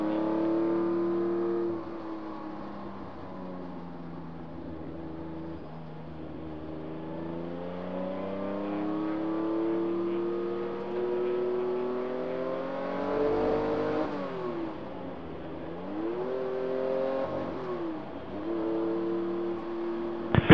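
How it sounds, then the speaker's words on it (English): Porsche race cars on the Corkscrew at a vintage Porsche race meeting, several engines revving and shifting as they pass, rising and falling in pitch, fairly loud and continuous. "Field coming down through the corkscrew now."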